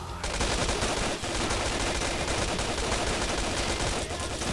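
Dense, continuous rapid gunfire in Counter-Strike 1.6, loud and sustained throughout with barely a pause, like automatic weapons firing nonstop.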